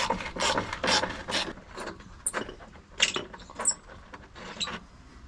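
A ratchet works on bolts during a radiator replacement on a '79 car, sending bursts of rapid clicking at close range, uneven and stop-start, with no talk.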